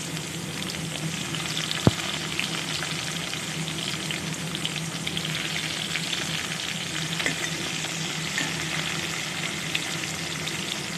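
Sliced onions sizzle steadily in hot oil left over from frying potatoes and eggplant, for an Assamese ilish fish curry. The close, even crackle is interrupted by one sharp utensil tap and faint stirring scrapes.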